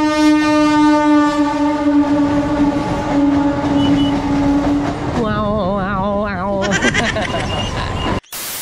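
A train passes close by, sounding a long, loud horn that holds steady, then warbles and shifts pitch before cutting off abruptly, with rail rumble underneath.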